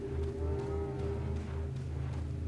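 A cow in the Resident Evil 4 video game gives a long, low, sustained moo that swells and holds for a couple of seconds, loud and close with no talk over it.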